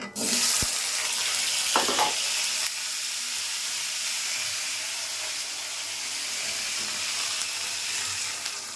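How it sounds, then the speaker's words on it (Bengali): Water is poured into a hot pan of oil holding elephant apple pieces for a chutney, giving a steady rushing hiss that is loudest in the first few seconds and then settles into a continuous sizzling wash. "জল পরিমাণ মতো দিয়ে দেবো চালতাটা সেদ্ধ হওয়ার জন্য।"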